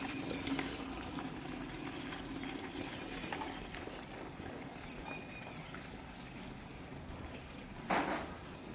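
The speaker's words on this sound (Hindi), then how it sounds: "पानी कम आ रहा है, मुझे तो डर लग रहा है टैंकी ना खाली होगी हो।" Water runs weakly from a household tap as the tank nears empty, a steady low hiss and trickle throughout, with a brief louder splash near the end.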